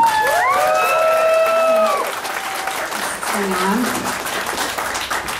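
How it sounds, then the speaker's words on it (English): Audience applause at the CoreCon VII convention opening ceremonies for guest liaison Chris Gruber, a loud burst of clapping and some cheering from the crowd, with voices and whoops heard over it. "So let's give her a round of applause, please."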